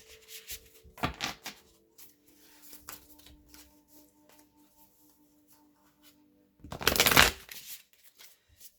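Light Seers tarot cards are shuffled by hand, giving two short flurries of riffling, one near the start and a louder, longer one near the end, with soft handling sounds and quiet in between.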